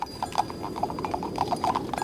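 Horses pulling a wagon clip-clop in a quick, steady rhythm of hoofbeats, moderately close and clear.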